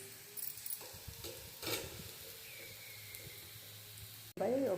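Garlic paste and potatoes fry in a pan with a faint, low sizzle and a few scattered stirring knocks, and a brief voice cuts in at the very end.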